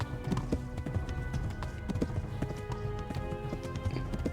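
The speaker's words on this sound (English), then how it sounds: "o cavalo tá cansando." A tiring horse gallops in the medieval video game Kingdom Come Deliverance, its rapid, even hoofbeats thudding close and loud over a continuous rumble of movement, with no voices.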